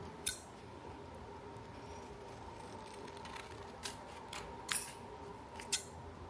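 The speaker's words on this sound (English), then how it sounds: "I'll just trim it a little bit differently" Scissors trim paper for a collage, giving a few sharp, close snips spaced irregularly over a quiet room hum.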